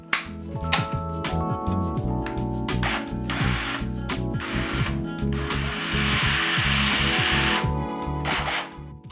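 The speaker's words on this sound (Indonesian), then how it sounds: "Nomor 3 itu sander. Ini sering saya pakai untuk mengamplas banyak pekerjaan," A Black & Decker Multi EVO 6-in-1 power tool running as a sander, a loud continuous mechanical whir with rattling pulses that stays close throughout.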